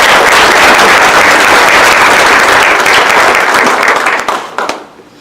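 An audience at a Women's History Month event in Monterey County claps in a dense, loud round of applause that holds steady and then thins out and fades away near the end.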